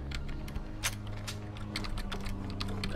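Fast typing on a computer keyboard during a Red Faction play session, a continuous run of crisp, close key clicks with irregular rhythm over a steady low hum from the computer.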